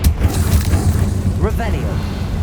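A Confringo fire spell blasting in Hogwarts Legacy, heard as a loud, sustained low booming rumble with a brief voice-like call partway through.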